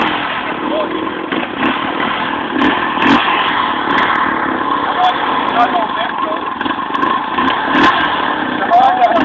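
A Honda Foreman ATV engine drones and revs loudly and continuously, close by, with clattering mechanical noise and people talking over it.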